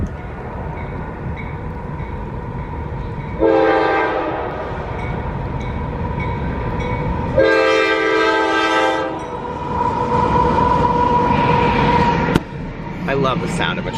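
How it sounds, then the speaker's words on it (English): A train passes at night on a quiet, otherwise empty evening, its horn sounding in loud, sustained blasts twice with rumbling rail noise between, while a person talks throughout. "love the sound of a train."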